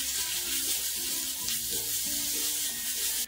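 Five medium chopped onions for beef masala sizzle and fry in a pan, a steady close crackle with light stirring scrapes throughout.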